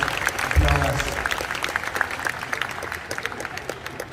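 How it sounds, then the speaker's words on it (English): An audience at a PRS guitar clinic in Jakarta breaks into loud applause, a brief thump at the start giving way to dense, steady clapping that carries on under a voice talking. "can we give one more round of applause for Hiendguitar PRS?"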